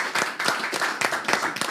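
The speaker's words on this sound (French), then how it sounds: "Des applaudissements pour lui." A crowd at a celebration show gives applause. Clapping comes in uneven rhythmic bursts, fairly close and bright, roughly six pulses over under two seconds, with no talk.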